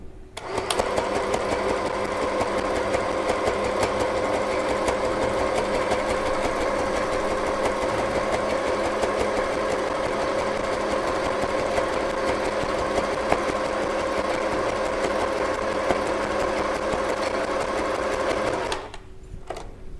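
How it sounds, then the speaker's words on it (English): An FHSM-519 sewing machine runs a straight stitch, a steady close mechanical whir and rapid needle chatter held for most of the stretch before stopping near the end, no speech. "rotate the hand wheel and prepare to sew"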